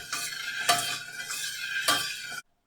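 A spoon stirs a thick Si Wu Gao mixture in a pan over lowered heat. Steady scraping and faint bubbling of the evaporating liquid run for about two seconds, with two louder spoon strokes against the pan, then stop abruptly.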